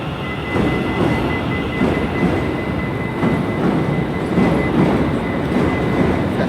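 ScotRail Class 380 electric train 380-106 pulls out of Glasgow Central station, a steady rolling rumble with faint rhythmic wheel clicks and a thin high whine running throughout.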